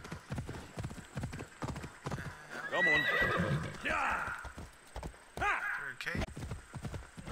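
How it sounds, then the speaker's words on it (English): Hooves clip-clop steadily as a horse is summoned in Assassin's Creed Odyssey, joined by a loud neighing whinny midway, while a player talks briefly over the game sounds. "Down the pad to call the horse."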